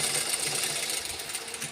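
Sewing machine stitching a short fold on the round part of a handmade bag, a steady continuous whir running close and alone throughout.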